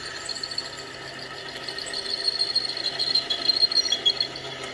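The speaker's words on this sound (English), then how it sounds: "It's a new drill bit, and it is cutting great." A new drill bit cuts into wood on a wood lathe, giving a busy, high, chattering whir with rapid clicking and uneven pulses that grow stronger toward the end.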